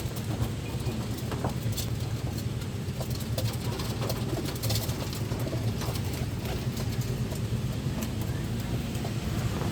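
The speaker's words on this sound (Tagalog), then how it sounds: "kompleto na yung mga ibon natin." Pigeons coo steadily at close range over a constant low rumble of background noise, with soft scattered clicks and rustles throughout.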